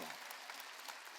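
Worshippers in a church congregation break into quiet, sustained applause, a soft even wash of many hands clapping heard from a distance.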